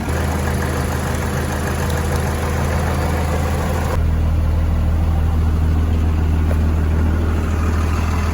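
A car engine runs at a steady idle, a loud continuous low rumble that shifts slightly in tone partway through, with no talking.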